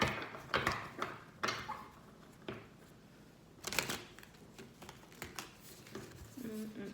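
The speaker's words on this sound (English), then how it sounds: "Let me shuffle it one more time." Tarot cards being shuffled by hand, giving a few quick bursts of riffling and card slaps with soft shuffling in between.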